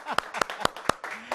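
A handful of sharp, evenly spaced claps ring out for a contestant at a candy-castle game show, four distinct hits over light background voices.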